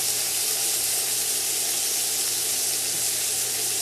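Steak searing in a hot pan, a steady loud hiss and crackle of frying fat that holds constant throughout with no voices over it.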